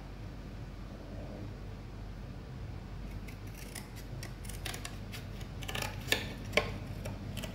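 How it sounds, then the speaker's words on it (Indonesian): Scissors cut membrane material in a quiet room, giving a soft background with a few faint snips and then sharper clicks and snips toward the end. "Ntar gue gunting dulu bosku."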